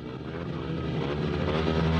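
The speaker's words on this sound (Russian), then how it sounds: "Ну что же, взревели моторы." Speedway motorcycle engines roar loudly together at the start of a 2007 Speedway World Grand Prix race in Poland, a dense continuous snarl that builds steadily over the whole stretch.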